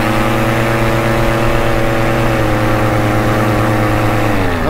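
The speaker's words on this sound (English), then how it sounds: "stuttering at high power, so that means it probably most likely needs a carburation adjustment" A small paramotor engine runs hard at high, steady revs with a buzzy drone, pitch wavering and dipping near the end as it stutters at high power, likely from a carburetion fault.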